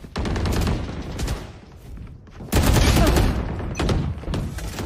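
Rapid bursts of gunfire from a Valorant deathmatch, loud and close, coming in two dense volleys separated by a short lull, with more shots trailing off at the end.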